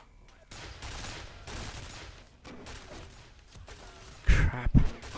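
Gunfire in the video game F.E.A.R., rapid muffled bursts of shots rising and falling in level, ending with a louder, punchier volley close by.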